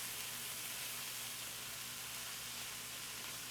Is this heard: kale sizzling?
yes